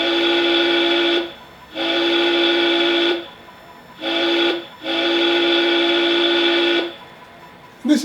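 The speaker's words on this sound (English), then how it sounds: "for this one I chose to use the Southern Pacific steamboat whistle" An HO-scale steam locomotive's TCS sound decoder plays a Southern Pacific steamboat whistle through a bass speaker, sounding four long, steady, rich-toned blasts with short gaps between them, close and fairly loud.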